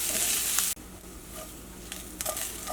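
Grated coconut fries in a pan with a steady, close crackling sizzle; the hiss briefly drops, then carries on with light scraping.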